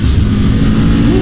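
A loud 2000 Aprilia RSV Mille 1000 cc V-twin motorcycle engine revs close by, a deep throbbing roar with pitch rising toward the end.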